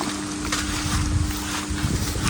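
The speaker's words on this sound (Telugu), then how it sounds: "ఇప్పుడు మనం గాలి అయితే వస్తుంది. గాలి వస్తుంది" Wind rushes steadily past during a boat trip, a constant broadband whoosh with a low engine hum beneath it, close and unbroken, with no speech.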